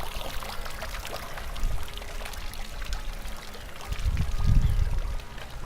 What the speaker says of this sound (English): the fountain's got little cold water spraying on me from the wind.